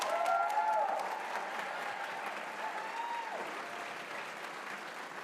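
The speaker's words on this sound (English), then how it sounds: "give them a big round of applause" Audience applause at a college nursing pinning ceremony, loudest at the start, then settling into steady clapping with a few whoops from the crowd.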